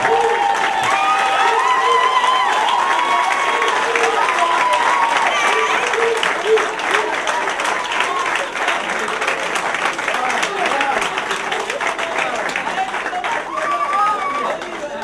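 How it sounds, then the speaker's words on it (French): A standing congregation applauds newly ordained ministers at an ordination service, with sustained dense clapping mixed with crowd chatter and scattered cheers throughout. "Que l'Assemblée se lève debout pour applaudir ces ministres."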